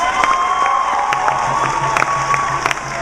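A crowd applauds, cheers and whoops for two members at the side of a stage during a live Islamic-themed performance event. The sound is loud and close, with scattered shouts over continuous clapping.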